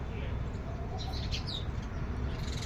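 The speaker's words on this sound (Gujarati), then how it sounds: "એ ચકલા પાણી પીવે જો" Sparrows chirp in short bursts from the middle of the recording onward while they drink water set out for them, a few bright calls over a steady low rumble and background noise, with no speech.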